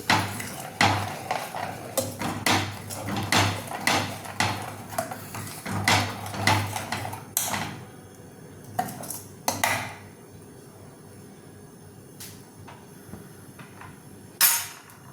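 Mutton masala stirred in a pan, a run of clinking, tapping strokes of a utensil against metal, busy and irregular at first, then thinning to sparse scattered knocks with quiet gaps between.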